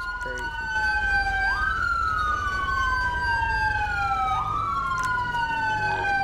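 A police car siren wails in a roleplay video game, its rising and falling tone sweeping repeatedly over a low engine rumble, steady and fairly close.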